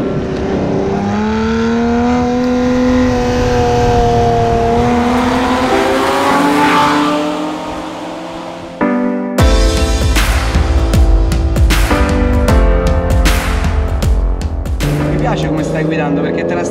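A Ferrari Testarossa engine pulls hard uphill, rising in pitch through a long loud climb, easing briefly, then roaring again through quick gear changes with sharp revving bursts, close and dominant, with voices talking underneath.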